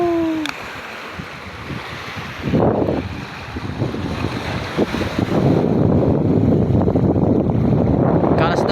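Strong outdoor wind roars against the microphone near open water, a broad rushing bluster that builds and stays loud, with a brief voice and water sounds mixed in.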